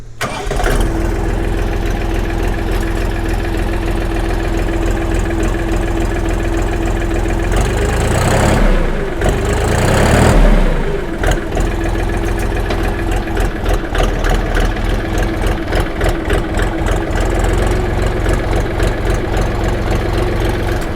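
A Kentavr 244SX tractor's engine cranks and catches, then settles into a steady, loud diesel idle with a brief revving surge partway through, heard close up with no talking.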